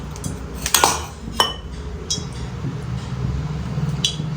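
A spoon clinks sharply against a bowl while turmeric is stirred into gram flour batter, giving a few scattered metallic taps over a soft background murmur.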